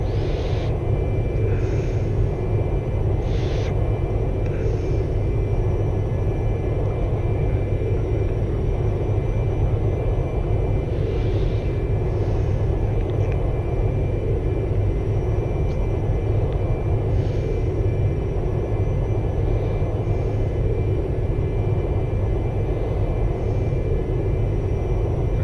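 Simulated Citation II business jet in X-Plane 11, a steady loud engine drone with low rumble and a constant whine, running unbroken throughout with no voices.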